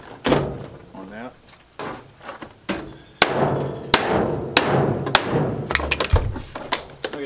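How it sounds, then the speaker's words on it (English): Sharp metallic hammer strikes on a clothes dryer being scrapped land irregularly, some loud and ringing, others dull thuds, with scattered quieter knocks between them. "May have to get the hammer"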